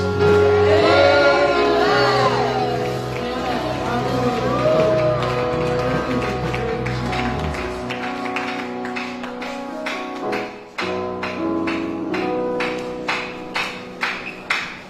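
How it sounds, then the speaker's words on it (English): A church congregation at a youth outreach service shouts praise together, a loud sustained roar of many voices that gradually gives way to scattered sharp claps and taps. "And everyone shouts,"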